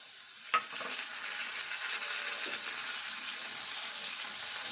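Soya chunks (meal maker) frying in a pan for an egg curry, a continuous close sizzle with a sharp utensil tap near the start and soft stirring scrapes throughout.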